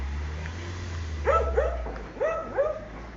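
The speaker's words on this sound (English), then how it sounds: "Dogs are barking." Dogs barking a few times at a distance on a local street in Italy, short yelping barks in two quick pairs over low traffic rumble.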